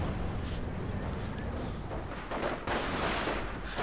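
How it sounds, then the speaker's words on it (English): Grenades bursting against German Panzer tanks in a real-time World War II strategy game, a continuous dense roar of battle noise with repeated overlapping blasts and crackling fire. "Grenades going off against the Panzers again."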